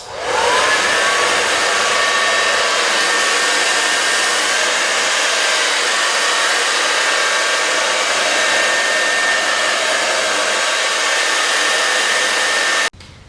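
A hair dryer blows steadily and loudly for about thirteen seconds while drying hair set on Click n Curl rollers, a constant whirring roar that cuts off abruptly at the end.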